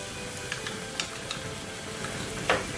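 Cream is stirred into a frying pan of shrimp carbonara, giving a soft, steady sizzle with light scraping stirs and small clicks, quiet and close.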